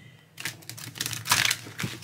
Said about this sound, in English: so we can shuffle sideways, riffle,